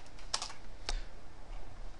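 A few quick, soft keystroke clicks on a computer keyboard while coding in Visual Studio, two short bursts of typing over a quiet room hum.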